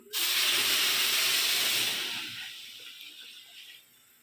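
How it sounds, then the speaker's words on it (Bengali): Hot water poured over frying rice for beef biryani bursts into a loud, close steam hiss that holds for about two seconds, then fades to a quieter simmering sizzle. "মধ্যে গরম পানি দিয়ে দিলাম"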